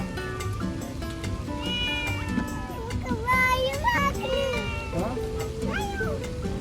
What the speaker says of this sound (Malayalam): പൂച്ചനെ വിളിക്കാണോ നടക്കാൻ കൂടെ?